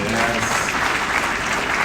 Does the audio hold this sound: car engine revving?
no